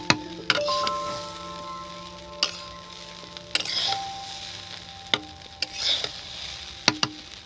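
Chira pulao, made with flattened rice, is gently stirred in a pan, giving sparse sharp clinks and scrapes of a spoon over a faint sizzle.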